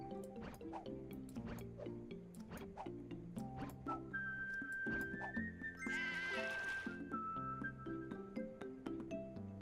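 Cartoon sheep bleat in the puzzle video game Divide by Sheep, several short synthetic bleats over a light musical backing with drips and chimes, plus a brief rising whistle-like effect midway.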